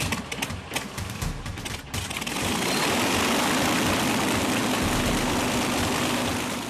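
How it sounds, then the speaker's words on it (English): A World War II Lancaster bomber's four Rolls-Royce Merlin engines start up with sputtering, uneven firing, then settle into a loud, steady, rumbling propeller drone. "4 Rolls-Royce Merlin engines. The Lancaster gets ready for work."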